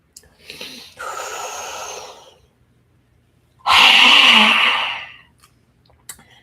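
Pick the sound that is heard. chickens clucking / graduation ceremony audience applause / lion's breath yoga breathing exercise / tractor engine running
lion's breath yoga breathing exercise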